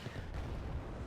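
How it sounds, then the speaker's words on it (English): Muffled, continuous rumble of battlefield gunfire from a BTR-D armored vehicle in the strategy game Wargame: Red Dragon, a dense low-heavy wash of shots and distant booms lasting about a second, with no speech. "I can hear some gunfire. Oh, that's the BTRD."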